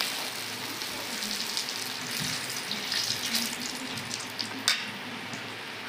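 Dried red chillies and bay leaves sizzle in hot oil, giving a steady, close, even hiss with faint crackles and one brief louder pop near the end. No one speaks.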